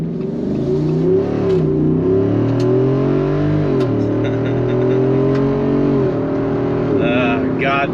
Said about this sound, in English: that is the awesome sound of freedom here in the Jeep 392